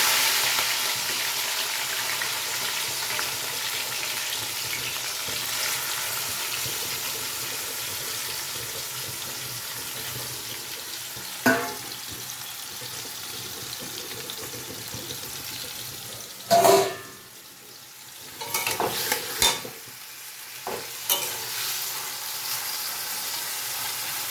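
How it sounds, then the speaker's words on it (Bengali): Shrimp coated in salt and turmeric frying in hot oil, a steady sizzle running throughout, with a few sharp clatters and bursts of louder spitting partway through. "তেল গরম হয়ে গেছে এবার এই নুন হলুদ মাখিয়ে রাখা চিংড়ি মাছগুলোকে"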